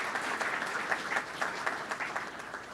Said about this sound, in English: So if we can just give a round of applause to these leaders.